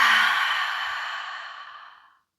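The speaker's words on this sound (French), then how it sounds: "cette fois-ci, on va tout expirer par la bouche" A deep, breathy exhale pushed out through the mouth during a yoga breathing exercise, one long close airy breath that fades out over about two seconds.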